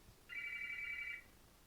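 A landline telephone gives one steady electronic ring lasting about a second, clear and close against a quiet room with no talk.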